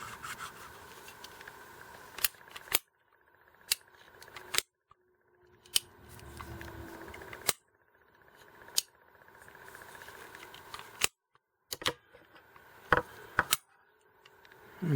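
Kobalt 2-inch PVC cutter, model 58703, biting through half-inch PVC pipe: a run of sharp ratcheting clicks and snaps with grinding, crunching stretches between them, close and loud, and no talking.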